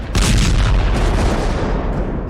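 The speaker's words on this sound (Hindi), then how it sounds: "रूस में अब शुरू हुए फ्रांस की स्कैल्प मिसाइल के धमाके।" A French SCALP missile explosion: a loud, sudden boom that breaks into a broad rumbling roar and slowly decays over about two seconds.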